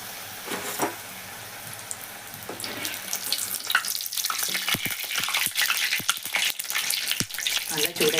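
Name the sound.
samosa and puffs frying in hot oil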